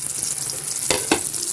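Stuffed bitter gourd (dorma) pieces go one by one into hot oil, loud steady frying hiss up close, with two bright bursts of sizzle as pieces drop in.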